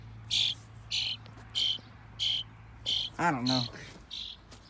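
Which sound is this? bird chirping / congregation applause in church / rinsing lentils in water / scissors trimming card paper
bird chirping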